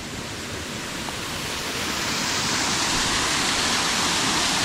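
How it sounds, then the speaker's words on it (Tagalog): Small waterfall on the Wairoa Dam Track in the Hunua Ranges, a steady broad rushing roar of falling water that grows slightly louder throughout, with no voices. "Ayan, waterfall, small waterfall."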